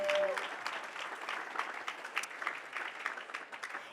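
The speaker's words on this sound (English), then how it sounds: "Big round of applause." Audience applause in a conference hall after two presenters are welcomed to the stage, a steady dense patter of many hands clapping that holds evenly throughout at moderate distance.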